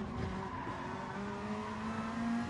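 Race car braking late in a racing video game, a sustained tire skid squeal over a steady engine drone, rising slightly in pitch toward the end.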